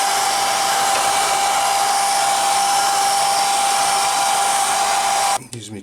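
A heat blower roars steadily and loudly up close while warming a sticker on a Tamiya TT02 Ford GT Mk2 body, running without a break for over five seconds before cutting off.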